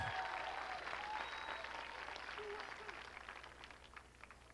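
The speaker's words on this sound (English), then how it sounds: "Please give him a round of applause" Applause from the audience at an outdoor high school graduation after a student's national anthem performance, a broad wash of clapping that slowly fades, with a faint whistle and crowd noise mixed in.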